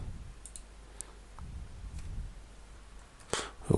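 A computer mouse clicking on a desk, a few faint sparse clicks over a quiet background, then a couple of sharper, louder clicks near the end.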